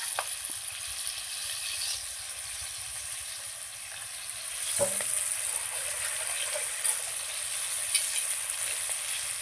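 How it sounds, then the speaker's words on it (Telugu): Chilli bajji fritters in about a quarter kilo of hot oil, cooked village style, give a steady, close sizzling hiss throughout, with a brief clatter partway through and the frying growing slightly louder afterward. "నూనె కాగింది వేస్తాను ఒక్కొక్కటి"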